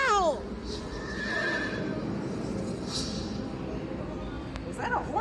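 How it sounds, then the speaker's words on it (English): A horse whinnies loudly at the very start with a descending neigh, then a steady background bed follows and another short whinny-like call sounds near the end. "Is that a horse?"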